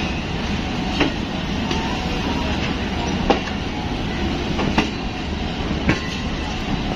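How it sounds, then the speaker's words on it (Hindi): The Karakorum Express, a restored Lahore to Faisalabad passenger train, departs with a steady rumble of rolling wheels and a few sharp rail clicks at regular intervals, loud and close. "पूरे 3 बजे फाइनल विसल हुआ है और गाड़ी खैर से रवाना हो गई है"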